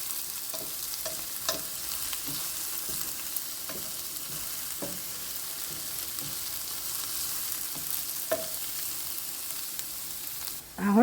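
Marinated chicken frying in a little oil, a steady close sizzle broken by occasional light stirring taps and scrapes in the pan.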